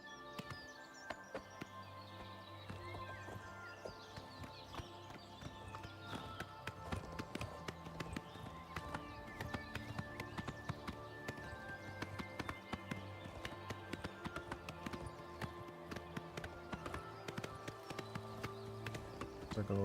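Horse hooves clop along a road in a video game, a rapid steady galloping patter with faint bird calls behind it.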